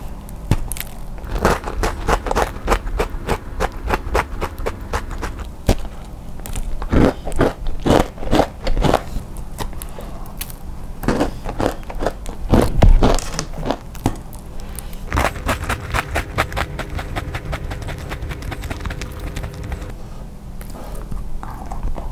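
Crisp, crackling bites into a crunchy bakery pastry filled with almond slices and chocolate chips, repeated irregularly with chewing and crumbly scraping between bites, close and fairly loud.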